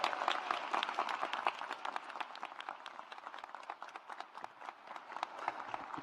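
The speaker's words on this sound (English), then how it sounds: "Let's give another round of applause for Dr. Melissa Borja" Graduates and guests at an Asian & Pacific Islander graduation celebration applaud a speaker, with many distinct claps over a steady bed of clapping, slightly louder at first and easing off.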